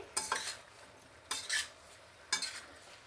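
Vegetables for sambar are stirred as they fry in a pan. Three distinct bursts of spoon scraping against the metal pan come at roughly one-second intervals over a faint background, with no voices.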